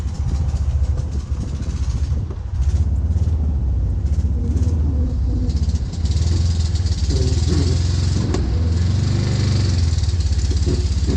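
A Volkswagen Kübelwagen engine drones loud and steady while the car drives through a turn, a constant low rumble that swells slightly midway with no talk over it.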